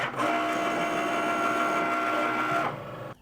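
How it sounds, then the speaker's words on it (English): A Cricut cutting machine slicing a vinyl design gives off a steady, loud mechanical whir with a faint high whine, running evenly for a few seconds before it abruptly stops. "we're going to click on the flashing Cricut button and it will start to cut out our design"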